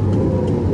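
A 2015 Porsche 918 Spyder, a 4.6-litre V8 hybrid with 887 horsepower and all-wheel drive, drones steadily and loudly from the cabin while driving, a continuous deep engine rumble.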